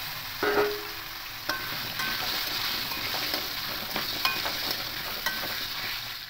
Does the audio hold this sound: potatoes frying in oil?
yes